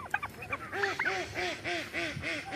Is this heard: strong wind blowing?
no